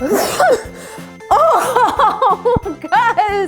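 A single sharp sneeze bursts out in a children's play setting, followed by an excited voice and a short laugh, all loud and close.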